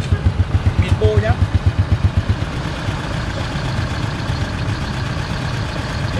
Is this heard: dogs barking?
no